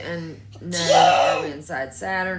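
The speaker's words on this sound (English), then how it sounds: "Why are you fake sneezing" A child fakes a sneeze, a single breathy, exaggerated burst, in the middle of an adult's ongoing talk.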